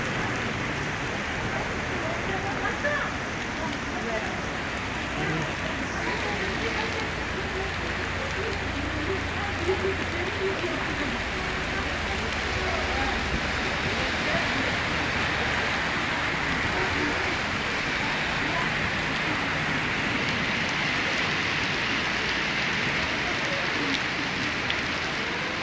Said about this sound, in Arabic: الحمد لله على هاد امطار الخير